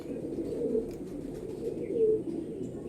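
A golden-eyed female pigeon coos at close range in low, rounded, repeating calls, with faint chirps from other birds in the background.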